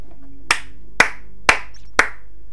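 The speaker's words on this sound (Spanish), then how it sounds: "Un aplauso." Four sharp hand claps, evenly spaced about half a second apart, crisp and close against a quiet background, during play of the video game F.E.A.R.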